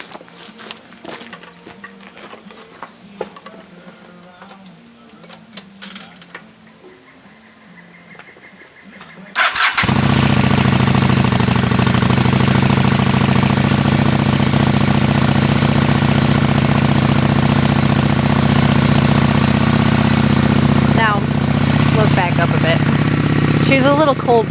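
A cold Honda Shadow motorcycle engine starts after quiet talk and then idles loud and steady while warming up, with a few small revs near the end.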